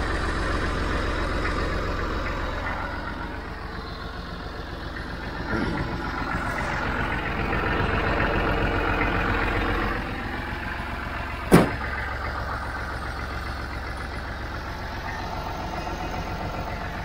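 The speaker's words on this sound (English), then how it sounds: "I got it kind of idled up a little bit, trying to charge the battery some" An old tractor engine idles steadily at a slightly raised speed, a continuous low rumble with one brief sharp knock partway through, no talking.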